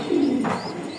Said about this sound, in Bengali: আইরিশ জাতের একটা কবুতর